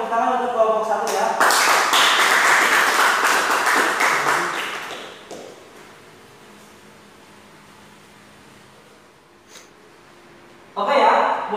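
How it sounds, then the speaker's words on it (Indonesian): A classroom audience claps for a student presentation group in a broad burst of applause that fades after about five seconds, leaving a quiet room hum before voices and noise return at the end. "kita beri tepuk tangan untuk kelompok 1 ya"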